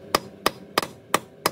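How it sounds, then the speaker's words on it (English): A sledgehammer drives a socket onto a stripped lug nut on a car wheel: five sharp metallic strikes at an even, quick rhythm, close and loud, with no talking. "we'll go grab a bigger sledgehammer so we can drive that thing on there pretty much as far as she'll freaking go"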